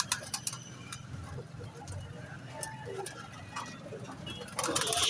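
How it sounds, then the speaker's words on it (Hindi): Soft pigeon coos and bird calls over a low outdoor murmur, with faint clicks and a rise in background noise near the end. "कबूतर बाहर निकल आए हैं"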